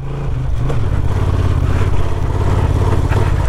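Honda XL750 Transalp 2023 motorcycle engine pulling up a gravel slope, a loud, steady low-pitched drone with slight rises in revs and some clatter, continuous and close throughout.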